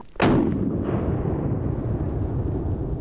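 A single loud rifle shot from a Winchester SXR2 pump-action rifle during a boar hunt in French woods, a sharp crack followed by a long rolling echo that lingers through the rest of the moment.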